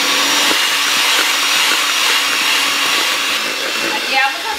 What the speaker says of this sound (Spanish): Y volvemos a batir unos 2 minutitos.